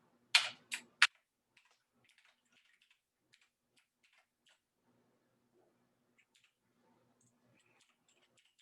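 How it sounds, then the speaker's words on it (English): A few quick, close keystrokes on a computer keyboard while entering functions into the Desmos graphing calculator, a short burst of clicks followed by near silence with faint scattered taps. "So I'm gonna just type this into Desmos"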